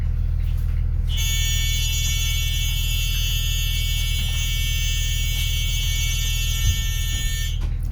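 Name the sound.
emergency door warning buzzer on a bus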